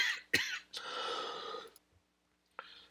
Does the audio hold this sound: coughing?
yes